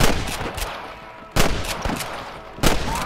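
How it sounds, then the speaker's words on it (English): Gunshots in the video game Red Dead Redemption, three sharp, loud blasts spaced about a second apart over a low rumbling game background, with no talk. "Damn fine shooting, boys."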